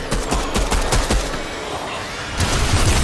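Rapid automatic gunfire from a shooting video game fills the mix in dense, continuous bursts, loud and close, with a short lull before the firing picks back up.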